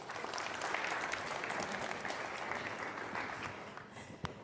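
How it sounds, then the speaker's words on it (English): Steady, dense applause from a large audience fills a conference hall, sustained without pause before easing slightly at the end; no voices stand out. "Ladies and gentlemen, one more round of applause."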